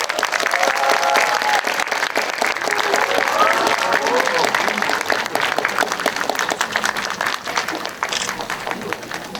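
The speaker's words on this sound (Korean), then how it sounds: "박수 부탁드립니다" Sustained audience applause fills a cinema during a paid preview screening of a Korean film at Lotte Cinema World Tower as the director and cast are introduced, loud and dense throughout with voices and cheers mixed in.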